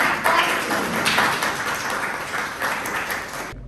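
An audience in a Quran recitation lesson claps together, a dense, fairly loud burst of applause lasting a few seconds before cutting off sharply.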